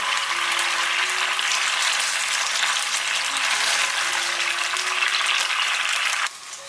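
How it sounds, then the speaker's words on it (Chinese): Thickened sauce poured over braised squab with scallions in a clay pot over high heat, giving a loud, continuous close sizzle and crackle for several seconds before it suddenly drops away near the end; no one speaks. "砂锅开火，淋上芡汁"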